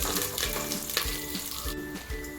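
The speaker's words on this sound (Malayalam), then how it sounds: "ഇതെല്ലാം കൂടെ നമുക്ക് വീണ്ടും നന്നായിട്ട് ഇളക്കി യോജിപ്പിക്കാം." Dried chillies and curry leaves sizzle in hot oil for tomato rice while a spoon stirs them, giving a dense close crackle with rhythmic scraping thumps against the pan.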